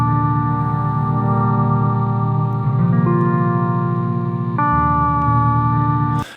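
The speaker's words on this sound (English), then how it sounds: "I'm going to half my speed, and it'll sound like this" Sustained, droning guitar chords from a looper played back at half speed, slow and low, with a wobbling, chorus-like texture and chord changes before cutting off abruptly.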